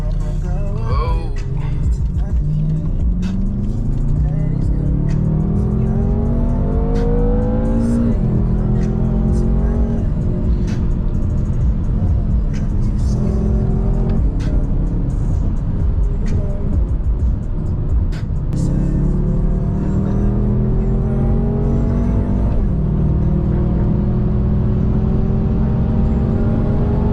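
BMW M5 with a 600 hp engine revving hard on back roads, rising in pitch through several gears with sharp downshift blips around 8 and 18 seconds, loud and close throughout, with someone talking over it.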